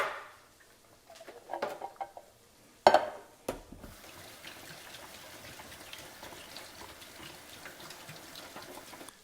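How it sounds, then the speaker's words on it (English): Liquid from canned beans draining off, heard as a gush of pouring and splashing after a few clinks of the can, close and fairly quiet. "I'm just gonna drain them off."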